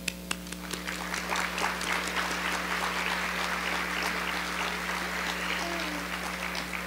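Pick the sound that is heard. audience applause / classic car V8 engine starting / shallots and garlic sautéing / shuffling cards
audience applause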